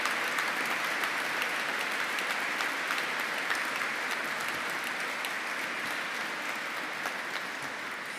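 Sustained, steady clapping from a large audience at a graduation ceremony inside a cathedral, dense and even throughout with no voices standing out.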